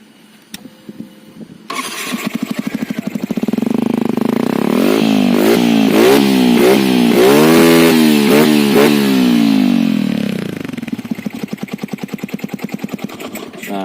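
A Yamaha Vixion converted to a supermoto, its engine idling with a deep throb before being blipped through several rising and falling revs, then settling back to a lumpy idle, loud and close with a round exhaust tone.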